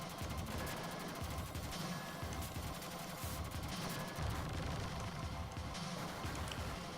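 Steady pistol fire in the Robocop 2 arcade game, a rapid, even run of shots that continues the whole time over a thick, loud layer of game noise, with no pauses.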